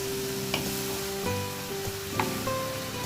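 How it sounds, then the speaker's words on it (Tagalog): Spring roll vegetables, including celery, being stirred in a pan, a continuous sizzle with repeated scraping and tossing strokes at an even pace, close and alone. "haluin ng maigi yung gulay para pantay siya"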